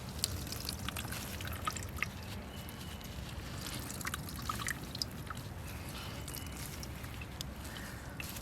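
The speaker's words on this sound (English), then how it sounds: "let's see if I can squeeze more water out of this." Water drips and trickles steadily as indigo-dyed yarn is squeezed over a hydrosulfite indigo vat, faint scattered drops over a soft wet background.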